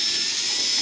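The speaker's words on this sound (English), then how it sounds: "And now I'm going to drill through here." A power drill bores through an aircraft part while building an Affordaplane, giving a steady, loud high-pitched whine that holds without a break throughout.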